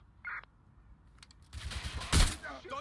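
Gunfire in the Watch Dogs Legion video game, with a burst of loud, dense shots and rattling automatic fire in the second half after quieter, sparse sounds.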